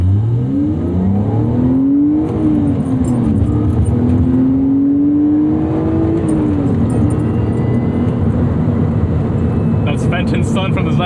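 A 2001 BMW Z3 3.0i roadster's engine pulls hard through the gears, its note rising, dipping at a shift and climbing again, loud and close from inside the car, with a brief rattle near the end.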